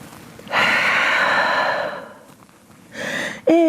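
A deep, audible breath drawn in and let out in a downward dog yoga pose, a long airy exhale followed by a shorter breath, close to the microphone, with a voice entering at the end.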